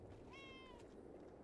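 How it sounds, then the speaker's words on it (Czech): A single cat meow in the video game Kingdom Two Crowns: Norse Lands, a short rising-then-falling cry over a steady, noisy game background. "Ty kočky jsou tady už 4."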